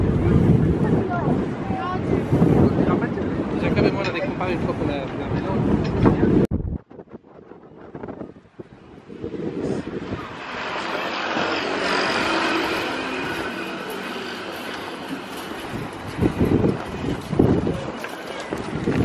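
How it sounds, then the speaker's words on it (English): Strong outdoor wind buffeting the microphone on a city street in Bristol, with loud roaring gusts under people talking, a sudden drop to quiet, then the wind rising again. "Really windy."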